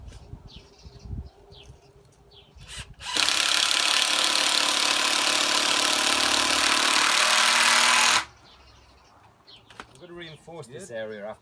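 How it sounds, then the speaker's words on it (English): A power drill bores a pilot hole in recycled wood for a pull-up bar, a loud, steady whine lasting about five seconds that starts and stops abruptly, with someone talking before and after. "I'm going to drill a pilot hole and whack a screw through here"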